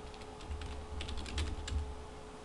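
Quiet typing on a computer keyboard, a quick run of soft key clicks in irregular bursts, close and alone.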